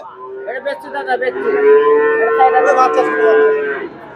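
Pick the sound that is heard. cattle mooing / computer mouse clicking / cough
cattle mooing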